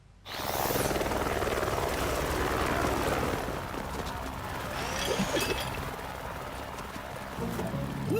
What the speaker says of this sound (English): We need a helicopter.